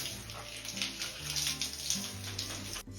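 Water runs steadily from a tap while hair is being washed indoors, a soft continuous splashing stream with small irregular bursts as hands move through it, quiet and close.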